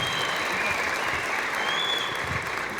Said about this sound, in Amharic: ጭብጨባ፣ ሞራል ድጋፍ ያስፈልጋል።